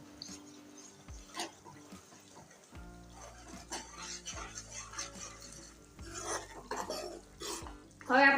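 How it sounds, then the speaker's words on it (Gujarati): A spoon stirs turmeric and salt into tomatoes in a pan for Kathiyawadi guvar shaak, giving scattered clinks and scrapes against the metal at an irregular pace, fairly quiet, with no talking. "અને હળદર અને મીઠું નાખીને હલાવી લઈશું"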